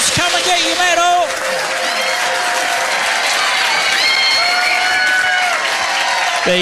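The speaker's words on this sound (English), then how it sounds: "The winner of the gold medal, though, give them a round of applause." Pub trivia quiz crowd applauds and cheers the gold medal winning team, loud sustained clapping with voices talking over it throughout.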